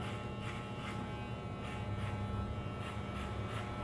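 Electric hair clippers fitted with a number 2 guard buzz steadily while cutting hair for a textured undercut, a constant close hum that swells and dips slightly as strokes pass, with no talking over it.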